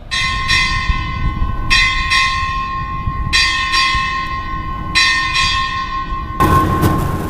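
Ship's bell struck eight times in four evenly spaced pairs at a U.S. Navy Indo-Pacific Command change-of-command ceremony, each ringing clang decaying into the next, followed by a brief burst of broadband noise at the end.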